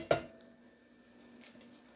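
Small sliced carrots dropped into a pot of cooking beef for potato beef and noodle soup, one quick clattering splash at the start, then a quiet simmering background.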